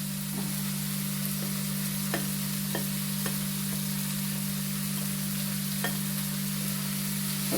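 Garlic and green chilli frying in a pan, a steady close sizzle with a few sharp stirring clicks scattered through it and a constant low hum underneath, no voices.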